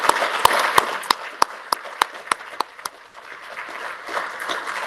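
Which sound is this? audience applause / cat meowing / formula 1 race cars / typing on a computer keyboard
audience applause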